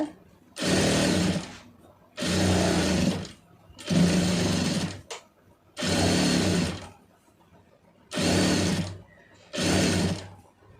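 A tailor's sewing machine stitches a small piece of fabric in six loud, close bursts of rapid whirring, with short quiet pauses between them.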